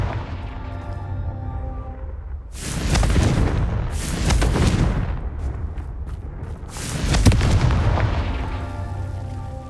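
The Confringo spell in Hogwarts Legacy fires off heavy, booming blasts in the game, with two or three big rumbling explosions rising over a low humming background.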